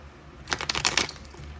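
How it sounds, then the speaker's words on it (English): A tarot card deck is shuffled in a quick burst of crisp, riffling paper flutters and light slaps lasting under a second, close and fairly loud against a quiet room. "So we're going to shuffle our deck."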